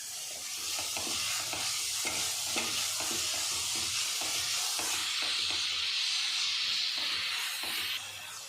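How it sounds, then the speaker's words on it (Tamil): Onions sizzle and hiss steadily in a hot pan for veg momos filling, with repeated scraping and stirring strokes throughout, close and fairly loud. "இப்போ வந்து ஆனியன் வதங்கிருச்சு"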